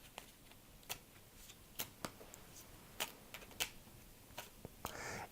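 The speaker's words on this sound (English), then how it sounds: "first we are going to shuffle the cards a bit here." Tarot cards being shuffled by hand, a soft papery riffling with scattered sharp clicks and flicks at an uneven pace, quiet and close with no talking.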